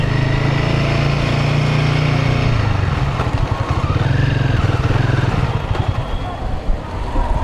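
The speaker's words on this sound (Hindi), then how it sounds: "This bike is acting up now." A motorcycle engine on a ride in Nepal falters and sputters, its loud steady running breaking down midway into uneven, choppy pulses as it struggles, close up with no other sound on top.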